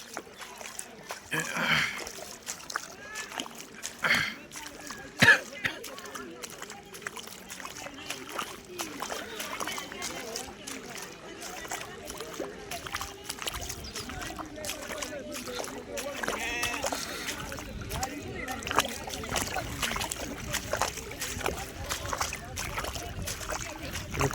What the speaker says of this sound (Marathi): हे पहा होडीने प्रवास करावा लागतोय.